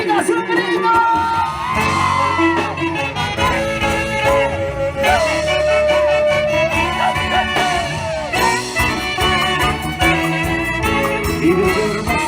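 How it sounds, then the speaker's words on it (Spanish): Girls shout, whoop and cheer at a 50th birthday party, a loud continuous crowd din with music running underneath throughout. "¡Chicas, un grito!"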